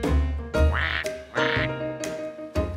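A cartoon duck quacks repeatedly, close and loud, in a series of nasal calls with brief pauses between them.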